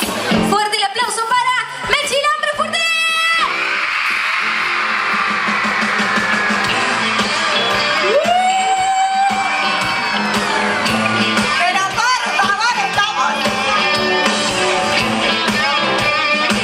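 A concert audience screams, whoops and cheers loudly and continuously throughout, with shouts rising above a dense crowd roar and brief musical tones in the mix.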